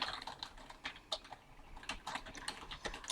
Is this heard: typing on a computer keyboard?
yes